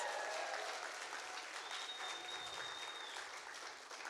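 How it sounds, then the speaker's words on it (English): An audience at a church's children's Christmas play gives a round of applause: a dense, even wash of clapping, fairly soft and distant, that fades a little near the end. "Give them another round of applause."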